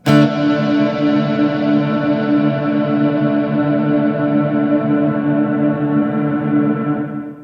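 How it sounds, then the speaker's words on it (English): A single electric guitar chord is struck and left to ring through a long, spacious reverb effect, sustaining loudly and evenly for several seconds before slowly thinning out, alone with no talk. "our reverb switch is on here. And we hear that nice, big, spacious sound"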